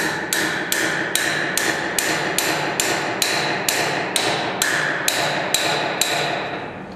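A wrench works loose the left-hand-threaded mounting flange of an old grinding wheel on a grinder, giving about a dozen sharp, evenly spaced metallic clacks, like ratcheting hammer blows, over a steady mechanical hum.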